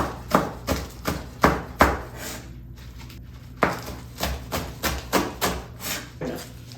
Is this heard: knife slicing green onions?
yes